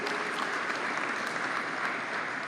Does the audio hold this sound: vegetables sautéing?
no